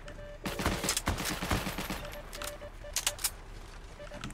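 Rapid bursts of gunfire crackle in the WW2 shooter Heroes & Generals, with a quick rattling run of shots early on and a few sharper cracks later, set against steady background battle noise.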